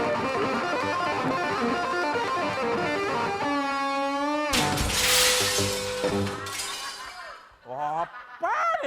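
A sharp glassy shattering crash bursts out mid-scene amid music and voices on a comedic Ramadan television show, a loud burst of breaking debris followed by more talk.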